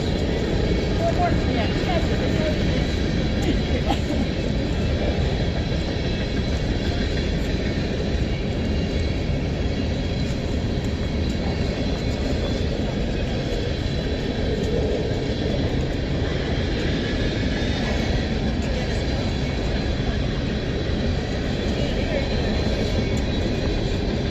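A continuous, broad rumbling roar of a train holds steady throughout, loud and close, with no clear voices above it.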